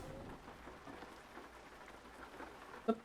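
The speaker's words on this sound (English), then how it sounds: "It's still raining" Steady rain pours in a video game world, a continuous soft hiss of drops with low rumbling beneath and one brief sharp knock near the end.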